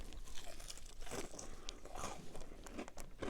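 Close, quiet crunching and chewing of fried catfish and shrimp, with irregular crisp bites and mouth sounds repeating throughout, no talking.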